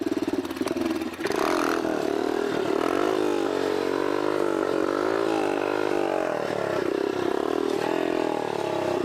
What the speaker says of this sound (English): this is gonna be a real wheelie. So nice and slow, in the low RPMs. Use that torque to lift it up.